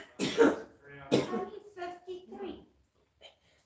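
A woman coughs hard in two loud, harsh bursts, then rasps and clears her throat with a few smaller hacks before the sound fades to near silence.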